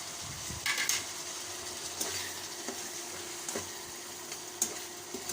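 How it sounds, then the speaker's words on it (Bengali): Bean seeds and red lentils sizzling in a pan, a faint steady frying hiss with occasional light stirring clicks, heard alone without talk. "সিমের দানা, মসুরের ডাল দিয়ে 4-5 মিনিট মতো একটু কষিয়ে নিই।"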